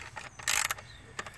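Ratchet loosening 8mm bolts on the throttle cables of a Mazda Tribute, giving a close, brief burst of clicking midway, with quieter ticks around it and no talk.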